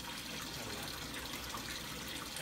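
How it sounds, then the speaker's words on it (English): Steady water runs from a tap throughout, a continuous broadband rush with no voices over it. "Does the sound of the water help you relax?"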